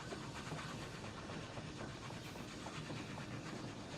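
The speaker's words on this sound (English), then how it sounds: "just watching the train move along" Train rolling along its route in the video game Oddsparks, a steady rumbling rail noise with faint rhythmic clatter, quiet and continuous with no talking.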